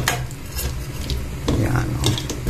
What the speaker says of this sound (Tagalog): Tapos, haluin natin ng konti para kumalat siya.